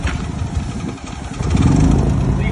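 A 10 kVA three-phase petrol generator engine starts and runs close by, a rough, steady engine rumble that swells louder about midway through.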